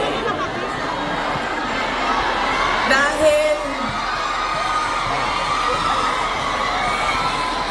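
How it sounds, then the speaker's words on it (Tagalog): A crowd of children shouts and cheers at a rally for a Philippine politician, a dense, loud roar of young voices with whoops rising briefly near the middle, continuous throughout. "Dahil kayo ay sumisigaw ng Duterte, suspended na kayo lahat bukas"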